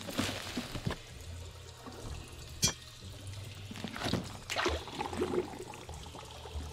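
Water pours into an empty bottle in the video game Shadowgate, a soft, steady trickle in the foreground with a few brief knocks and clicks mixed in.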